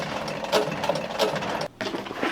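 A sewing machine stitching a Dodge Ram seat cover hums and chatters rhythmically up close, briefly stopping near the end before starting again.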